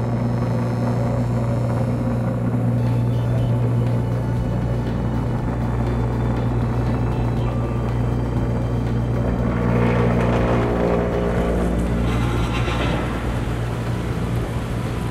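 A self-priming pump runs through its full priming cycle, giving a steady low mechanical hum and drone with a rushing, water-like swell partway through, loud and continuous.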